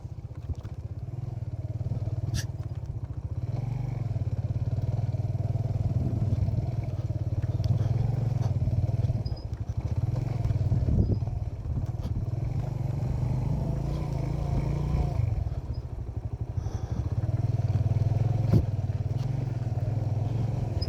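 A 125cc motorcycle on a valley road near Skardu, its engine a continuous low hum with clattering and scraping, rising and passing close by over about twenty seconds with no talk.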